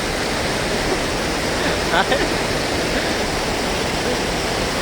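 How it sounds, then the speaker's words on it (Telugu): The Jayamangali river, flooded after heavy overnight rain, overflows near a bridge with a loud, steady roaring rush of water that fills the whole clip. "జయమంగళి నది చూడండి పొంగి పొర్లుతోంది"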